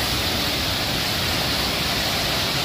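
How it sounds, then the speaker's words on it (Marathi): A small waterfall, running low in the dry summer season, spills between rocks in a wooded spot, giving a loud, close, unbroken rushing roar that stays steady throughout with no voices. "पावसाळ्यामध्ये हा धबधबा पूर्ण ओसंडून वाहत असतो. आता पाऊस नाही आहे, उन्हाळा असल्यामुळे पाणी कमी आहे, तरीसुद्धा पाण्याचा खळखळता आवाज"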